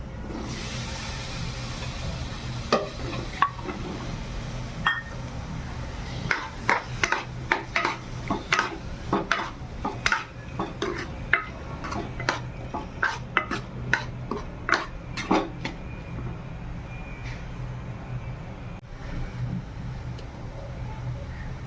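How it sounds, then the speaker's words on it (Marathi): Overnight-soaked chickpeas go into hot oil in a pan for chole, bringing a low background sizzle with a run of sharp spoon scrapes and clinks against the metal as they are stirred. "आता आपण रात्री भिजवलेले चणे टाकून घेऊया."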